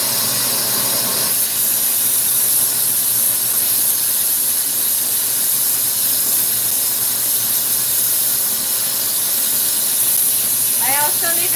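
A glassblowing torch flame blasts the center of a glass pipe, producing a loud, steady roaring hiss that runs unbroken throughout, with a voice speaking underneath.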